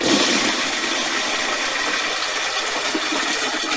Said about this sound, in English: So here I got my small tap.